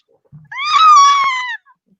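A person imitates a loud, drawn-out screech in a tabletop fantasy role-playing session, a single rising-and-falling shriek lasting about a second, close and alone after a brief breathy noise.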